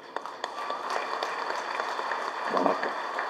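Audience applause at the Vikram film audio launch event, a dense wash of many hands clapping under a crowd murmur, with a few sharper claps standing out and a brief swell near the end.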